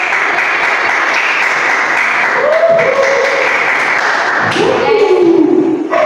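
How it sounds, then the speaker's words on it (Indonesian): Students in a high school geography microteaching class applaud the teacher, a loud, sustained burst of clapping with faint voices and a few tonal sounds mixed in toward the end. "Tepuk tangan buat Bapak"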